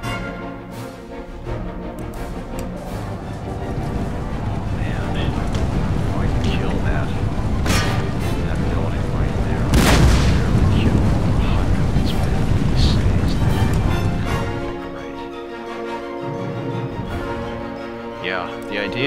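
Cannon fire in Empire Total War, a siege battle with deep booming blasts and rumbling impacts over continuous battle noise, while someone talks throughout.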